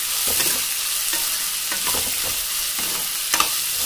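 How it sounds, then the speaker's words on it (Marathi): Finely chopped tomato being stirred into a frying pan: continuous close sizzling broken by scraping stir strokes, with a couple of sharper knocks near the end and no voices. "आता मी याच्यामध्ये ते ॲड करणार आहे। याला पण छान प्रकारे हलवायचं आहे।"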